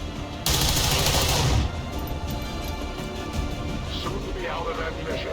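A burst of automatic gunfire sounds in the video game XCOM 2, loud and dense for about a second, then fades into background game sounds and a voice.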